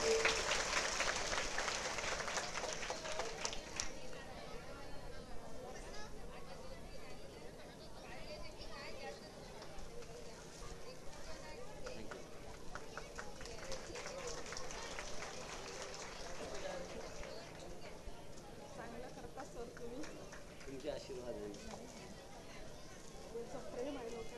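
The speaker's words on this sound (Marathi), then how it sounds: "यासाठी जोरदार टाळ्या तुम्ही वाजवल्या पाहिजे" Crowd applause at a welcome ceremony, a steady wash of clapping that stays fairly faint and distant and runs on for a long stretch.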